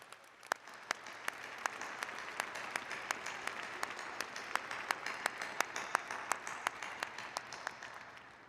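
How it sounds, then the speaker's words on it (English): A graduation ceremony audience gives a long, even round of applause, heard from some distance, with a few sharp, distinct claps standing out above the dense clapping. "I think you deserve a very loud round of applause."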